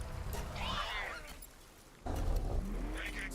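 A car drives in the video game Palworld with a low engine rumble. Speech and game voices talk over it, and the car noise swells again partway through.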